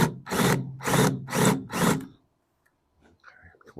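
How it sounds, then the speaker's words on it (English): A countersink bit chews at a drilled hole in a fabricated window part for an antique car: four close, loud grinding bursts in an even rhythm, then quiet handling noise. "I'm going to get my countersink and clean that up a little bit"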